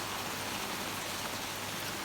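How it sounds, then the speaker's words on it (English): Heavy torrential rain pouring outside at night in a storm with gale force winds, a dense steady hiss of falling water that stays even and loud throughout with no voices. "It has been raining for hours and hours and hours."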